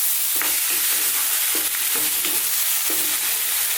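Tomatoes tumble into onions frying in a pan, a constant bright sizzle with several soft stirring and scraping knocks spaced through it, close and steady.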